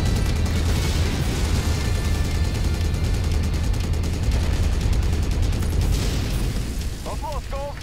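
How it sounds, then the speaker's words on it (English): Ammunition explosion on a battle mech in MechWarrior 5: Mercenaries, a dense, loud roaring blast with rumbling bursts and crackle that holds for several seconds before easing, with a voice talking over it. "that's an ammo explosion."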